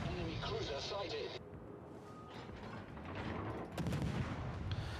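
Naval guns of a Cossack destroyer fire shells in a warship video game, several booming blasts over a rumbling battle backdrop, with a burst of loud firing near the end.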